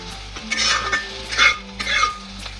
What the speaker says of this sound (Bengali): আলু ভাজা করব, আর মেয়ের পছন্দের ঢেঁড়স ভাজা